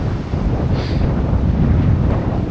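Strong storm wind on Baskatong Lake at a campsite, gusting and buffeting loudly and steadily against the microphone with a roaring rush of air and no talking.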